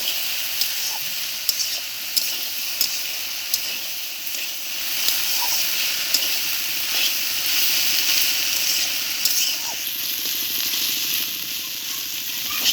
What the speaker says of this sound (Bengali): এই দেড়ের বাজির সময় কিন্তু খুব হালকা আছে ভাজতে হবে এইভাবে অনবরত নেড়েই যেতে হবে